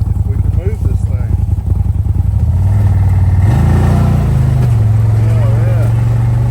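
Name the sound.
CFMOTO ZFORCE UTV engine driving through snow in low gear, four-wheel drive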